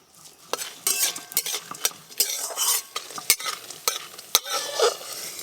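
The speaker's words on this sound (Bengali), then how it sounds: "এবার আমি তেল দিয়ে আরেকটু ভালো করে ভাজবো" Lentil dumplings (bori) frying in oil in a pan, being stirred with repeated sharp scrapes and clinks of a utensil over a steady sizzle, close and fairly loud, no talking.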